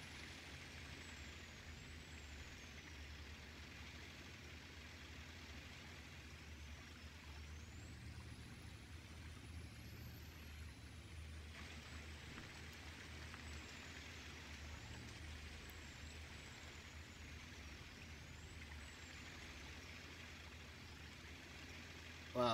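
A truck creeps slowly along a slippery road, its low engine rumble steady and fairly faint, with occasional air brake hisses and whining tones over a long, even stretch.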